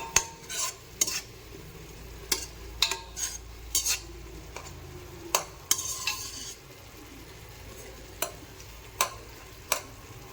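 A spoon stirs ground mint paste in a frying pan for pudina rice, sharp metallic clinks and scrapes at irregular intervals over a soft steady sizzle.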